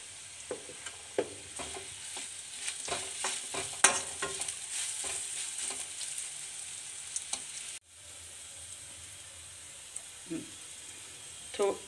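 Mango pickle pieces fry with salt in a pan while being stirred, giving a steady sizzle broken by scraping clicks of the spoon, then a quieter stretch of hiss after a brief cut.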